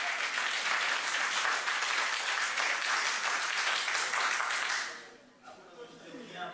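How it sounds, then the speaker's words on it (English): Sustained crowd clapping for dancers at a talent show performance in Bagamoyo, loud and continuous for about five seconds before cutting off abruptly, followed by quieter room noise. "let's clap for them for that"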